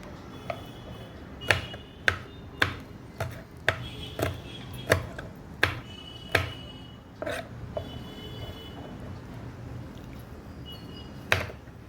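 Onions and green chillies being chopped into small pieces on a board, a series of sharp, evenly spaced knife thuds, close and distinct, with a few scattered strikes after a pause.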